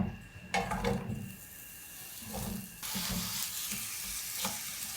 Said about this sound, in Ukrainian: Тепер потрібно підсмажити цибулю.